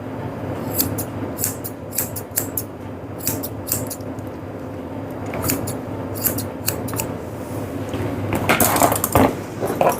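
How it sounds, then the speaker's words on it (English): Grooming shears, blending chunkers, trim the face hair of a Yorkie with crisp, close snips, some in quick runs of several cuts and others single, with soft handling noises between. "Blend in the side of her face with my chunkers."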